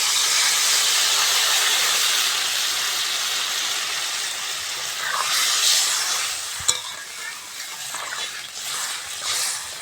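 Water hits a hot pan for a thin fish curry of live pond rohu-type fish with pumpkin, setting off a loud, steady hiss of steam and sizzle that slowly eases, with a few stirring clinks near the end.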